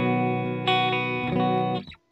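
An electric guitar played clean through a Fender Twin Reverb amp simulator on a Cuvave Cube Baby pedal rings out a sustained chord, restruck once, then cut off abruptly near the end.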